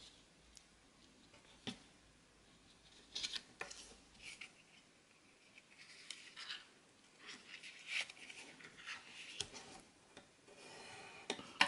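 Pencil or stylus rubbing and rasping along the edge of folded cardstock during handmade card-making, a soft intermittent scratchy scraping with small taps, faint and close, no talking.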